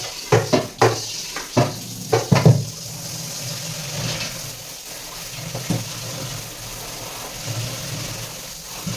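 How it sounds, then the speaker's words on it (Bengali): Cut fish pieces are washed with water in a pot, with a few sharp splashes and sloshes at the start, then quieter trickling and occasional clinks of the fish and vessel. "দেখো, মাছটা ধুয়ে নিয়েছি"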